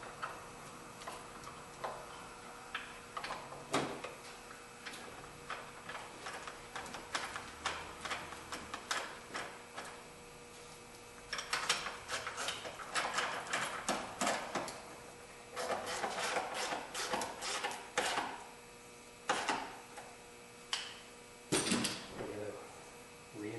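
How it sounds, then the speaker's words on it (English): A ratchet clicks in quick irregular bursts, close up, as the battery hold-down bolt on a Buick LaCrosse is tightened, with short pauses between runs of clicks. "we're going to reattach the bolt that held it down in place"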